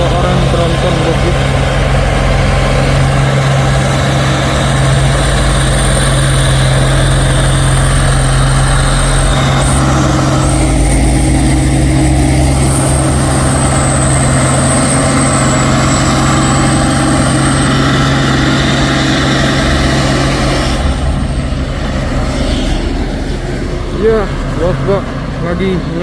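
A 220 PS tronton heavy truck engine runs with a steady low rumble throughout, close and loud, while other traffic passes and people talk over it.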